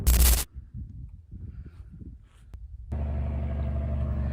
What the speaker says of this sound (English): This is the third logging truck I've seen this morning.